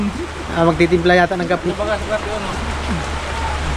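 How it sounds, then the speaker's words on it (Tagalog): Heavy rain pours down in a steady, dense hiss that continues throughout while people talk close by. "Grabe, lakas ng ulan."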